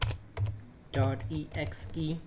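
Keys clatter on a computer keyboard as a command is typed into the Windows 11 Command Prompt, quick bursts of close, crisp tapping with a person talking between them.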